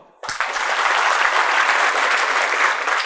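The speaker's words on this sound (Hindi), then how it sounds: "चलो आप खुद के लिए तालियां बजाओ" An audience at a motivational talk for engineering students bursts into applause after a brief quiet moment, then keeps up a dense, steady clapping close by for the rest of the stretch.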